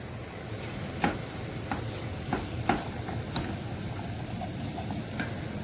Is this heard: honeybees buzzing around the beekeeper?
no